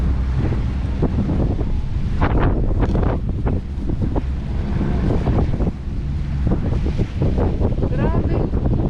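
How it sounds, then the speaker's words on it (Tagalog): Strong wind buffets the microphone on Dolomite Beach at Manila Bay, shaking a beach umbrella amid roaring gusts, with faint voices in the background. "Sa lakas ng hangin, no? Ito yung umbrella dito, umuuga-uga."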